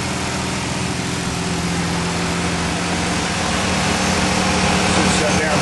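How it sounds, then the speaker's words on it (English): Idling 3.1-litre V6 in a 1973 MGB GT with its electric cooling fan running, a steady, loud whirring hum with low engine drone throughout, close-up in the engine bay. "sounds like a fan's just kicked on for the first time"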